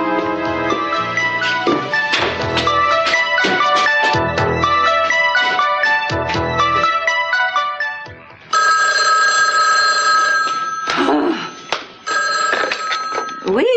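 Telephone bell ringing in a soap-opera scene, a bright repeated electronic trill that cuts in loudly over background music and continues in long bursts.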